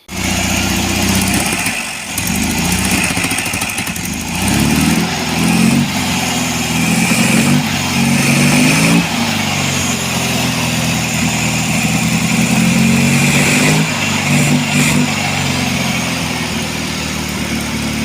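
A VW buggy engine with a carburettor fault runs loud and close, with a rough, uneven idle and surging throttle blips that dip and falter as it cuts out when revved.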